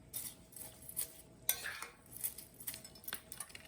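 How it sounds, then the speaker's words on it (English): Pasta ingredients stirred in a pan with a metal utensil, giving light irregular clinks and scrapes against the pan, close but quiet, with no voices. "So now we're just going to start stirring it around."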